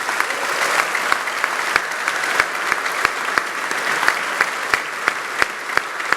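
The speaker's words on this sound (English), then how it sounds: "let's give a collective round of applause to congratulate our peers at the other Hult" A graduation audience at a postgraduate ceremony in London applauds with dense, sustained clapping, individual sharp claps standing out from the crowd.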